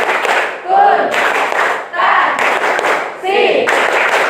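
In a classroom, standing students perform a rhythmic accounting clap chant, with three loud bursts of group clapping and shouted syllables separated by short pauses.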